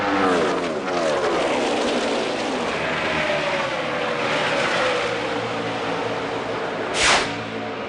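NASCAR Sprint Cup stock cars racing at Charlotte in the Bank of America 500, a dense continuous roar of many engines passing with shifting pitch sweeps, loud and steady throughout, with one car whooshing closer near the end.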